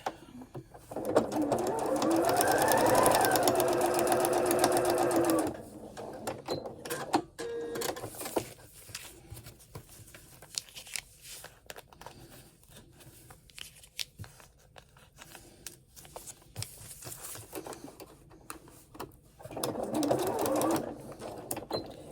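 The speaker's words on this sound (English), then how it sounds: "just put a few stitches at the very end, just like you did at the beginning, to hold it flat" A sewing machine stitches scrappy diamond quilt pieces in two clear bursts, a loud run of several seconds at the start and a shorter one near the end, with quieter handling noise between.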